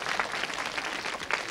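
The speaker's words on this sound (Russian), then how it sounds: "Аплодируем Ире за ее длинное слово" Studio audience applauding on a 1995 TV game show, a short burst of dense, steady clapping from a crowd.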